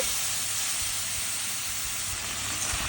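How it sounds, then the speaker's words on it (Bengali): Spice paste with cashews, green chillies and a little water sizzling in a pan while being stirred for an aubergine dish, a steady loud hiss close by with no voices. "সামান্য জল দিয়ে মশলাটাকে সুন্দর করে কষাতে হবে নাড়ি চাড়িয়ে নেওয়া হচ্ছে"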